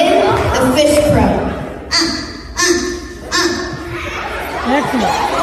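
A person imitates a fish crow with three short, nasal, clipped calls spaced about a second apart at close range, with people chattering and laughing around them.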